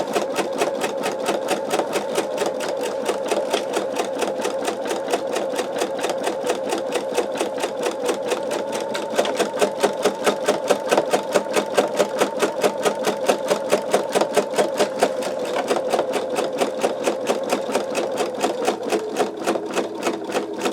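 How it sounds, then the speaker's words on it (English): An embroidery machine runs a basting stitch around a sugar skull design, a fast, steady mechanical rattle of needle strokes that continues without pause for the whole stretch at close range. "It's going to put a basting stitch all around my design."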